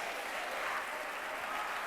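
A church congregation claps together in a dense, even burst of applause lasting a couple of seconds, filling the room at a steady level with no break.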